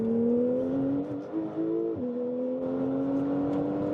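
A tuned 700-horsepower Porsche 991.2 Carrera accelerates out of a turn, its engine note climbing steadily in pitch with a brief dip at a gear change before pulling on, heard from inside the car.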